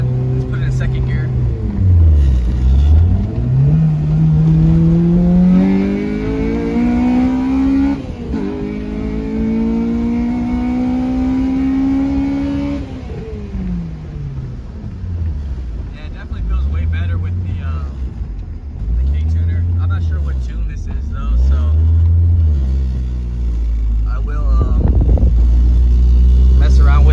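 Mitsubishi Eclipse fitted with a K20A2 engine driving on the road in second gear, its engine note climbing and falling in repeated rev sweeps, loud and close with steady road and wind noise throughout.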